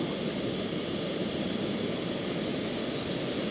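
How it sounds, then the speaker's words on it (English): A small portable gas camping stove burning outdoors, producing a steady, close roaring hiss of flame that holds constant throughout. "Check out my little gas stove here."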